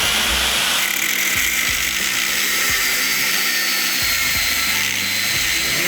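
A cheap $15 small angle grinder runs steadily and loudly throughout, a constant high motor whine with a rattly, ratcheting mechanical buzz underneath and a few brief dips in pitch.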